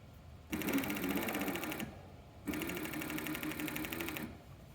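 Coverstitch sewing machine stitching the crewneck collar of a sweatshirt along a folded edge, running in two steady rapid bursts separated by a short pause, close and moderately loud.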